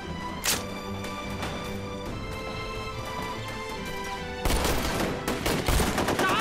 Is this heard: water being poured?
no